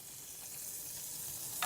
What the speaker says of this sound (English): a knob of butter in a non-stick pan. Melt it completely on a low heat.